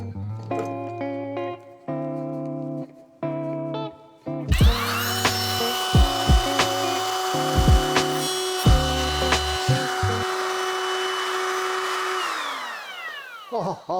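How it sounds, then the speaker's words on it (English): A router cuts a rebate groove in scrap wood for a bathroom cabinet: several short motor bursts at first, then a loud sustained whining cut with rough chattering changes as the bit moves, winding down at the end. "So I'll now route out a little rebate, dado, groove, whatever you want to call it, in there to accept the little cross members."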